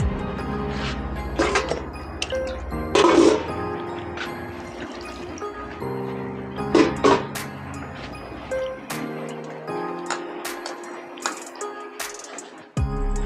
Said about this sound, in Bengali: জল দিয়ে ধুয়ে নেব।